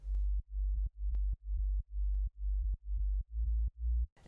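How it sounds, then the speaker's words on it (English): A deep sub bass synth pulses in about ten short, evenly spaced notes, each swelling and cut off with a faint click on top, loud and alone in a dance production. "I started with the sub bass, and this sub bass sounds like this."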